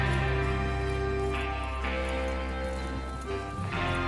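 Steady clip-clop of horse hooves trotting at an even pace in Red Dead Redemption 2 over a dense bed of ambient game sound.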